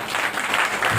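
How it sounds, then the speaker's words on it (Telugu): A Sunday worship congregation clapping their hands, a dense, continuous burst of applause from many people, loud and close, with no pauses. "చప్పట్లు కొట్టి"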